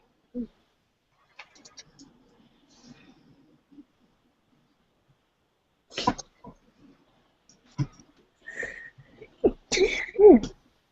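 A single abrupt sneeze bursts out amid a quiet room, followed after a pause by scattered speech from people talking nearby.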